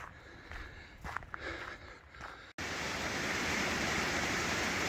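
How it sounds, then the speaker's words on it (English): Footsteps and movement outdoors on a bushwalk near Beechworth, then a sudden shift to a loud, steady rush of high water cascading over Spring Creek Cascades, close and continuous. "I can hear Spring Creek cascades, and it sounds like there's quite a bit of water coming over the waterfall"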